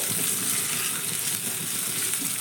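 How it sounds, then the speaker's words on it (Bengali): Grated ginger and chana dal fry in a pan of oil with a soft, continuous sizzle, faint and even throughout with no voices. "গ্রেট করা আদাটাও সঙ্গে দিয়ে একটু নাড়াচাড়া করে প্রথমে আদাটাকে ভেজে নিতে হবে"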